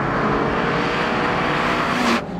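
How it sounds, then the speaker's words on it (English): A Honda S2000 engine with VTEC revs hard in a constant, loud, rising surge, close and continuous, then cuts off abruptly at the end. "as hard as you can rev the engine, it's just a constant surge"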